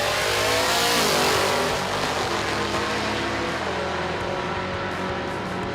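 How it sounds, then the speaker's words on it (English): Drag racing cars launch heads up down a quarter mile strip, their engines roaring loud and sustained with a rising, layered drone that carries steadily through the run with no talk. "these guys will be heads up all out to the quarter mile"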